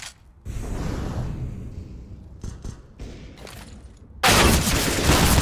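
Five-seveN pistol shots in a Counter-Strike match on the Overpass map: a sharp crack near the start and a few quick reports, dense game noise running throughout, and a loud burst of blasts near the end.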